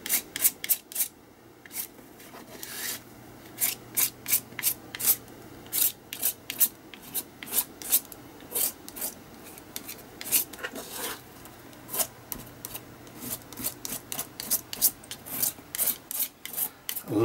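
A spatula scrapes and spreads burnt orange paint across an art journal page in quick, repeated rasping strokes, close and fairly quiet.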